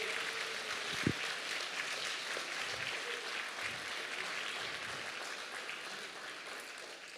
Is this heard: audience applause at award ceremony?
yes